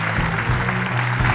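A live audience at The Juanpis Live Show, a Spanish-language talk show, applauds, with a brief burst of dense, steady clapping that fills the room and some voices mixed in.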